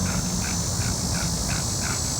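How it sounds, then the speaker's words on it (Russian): Birds call loudly outdoors in a quick, rhythmic series of rasping pulses, repeating about twice a second over a constant, dense wash of outdoor noise. "Це птиці оруть так."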